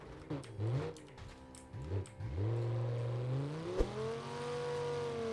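Car engine in the BeamNG Drive driving game, revving up in short bursts then holding a smooth rising drone, with a sharp knock near the end, close and clear without talk.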